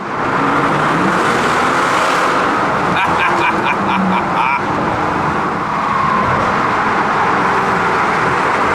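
A twin-turbo V12 engine in a Mercedes S65 AMG Coupe roars continuously in an echoing tunnel, with a brief burst of higher revving in the middle; faint speech underneath.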